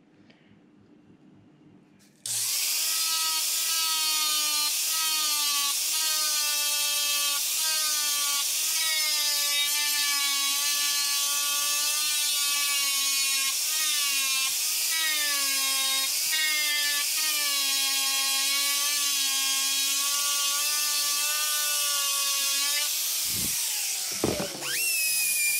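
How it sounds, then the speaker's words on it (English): A flap disc on a grinder buffs and smooths metal parts for an I-beam trolley, spinning up suddenly into a loud, steady high whine that holds for about twenty seconds before winding down. "I'm just going to buff them off the flap disc"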